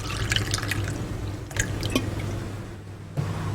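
Water trickling and dripping in a kitchen while a cooking show prepares sikanjbeen lemonade, a few soft splashes and drips close by over a steady low hum, with no talking.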